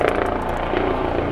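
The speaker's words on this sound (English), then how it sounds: "that helicopter is really loud." A helicopter's steady rotor thrum and engine drone, loud and continuous, with no talking.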